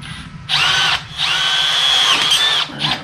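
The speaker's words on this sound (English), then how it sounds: "So I'm going to drill straight through." Power drill boring straight through a steel plate on a Bridgeport milling machine with a Burke power feed, a loud steady high whine in two bursts separated by a short pause, alone with no talk.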